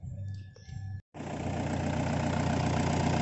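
A car with a freshly degreased engine bay is started and settles into a steady, loud idle. An earlier sound cuts off just before the ignition, and the engine then runs evenly to the end.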